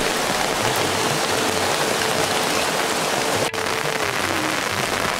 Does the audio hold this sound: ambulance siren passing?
no